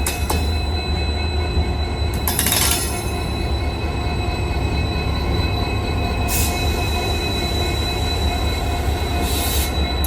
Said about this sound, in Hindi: सामने कोई ट्रेन आ रही है। और ये मेरे ख्याल से ललितपुर खजुराहो पैसेंजर ट्रेन जो है ये होगी शायद से